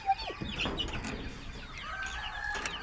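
Chickens, a hen with her chicks, clucking in a farmyard, with a busy, overlapping run of short calls and chirps at close range and no talk.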